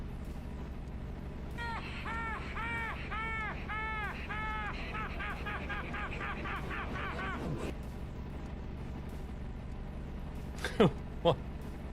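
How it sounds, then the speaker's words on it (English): Seagull-like bird calls ring out in a rapid run of repeated, rising-and-falling cries over a low, steady engine drone, then stop, and two short sharp sounds follow. "Sound like some damn seagulls or something."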